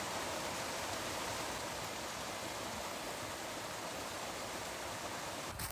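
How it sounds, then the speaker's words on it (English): Small waterfall on an off-grid property, a steady, dense hiss of falling water close by, unbroken and even throughout with no voices. "there's the little waterfall, which I love so much"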